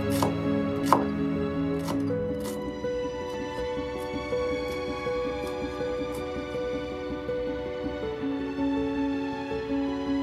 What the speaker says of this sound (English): Finely chop the cilantro and the white parts of the green onions.